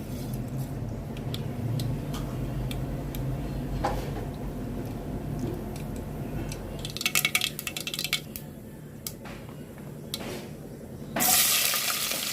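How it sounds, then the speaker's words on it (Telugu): Mustard seeds sizzling and popping in hot oil in a pressure cooker while cooking mutton paya, a steady frying hiss with scattered crackles and clinks of utensils, close and moderately quiet. "కుక్కర్ పెట్టి నూనె పోసానండి మటన్ పాయాకి నూనె కాగింది ఆవాలు వేస్తున్నాను"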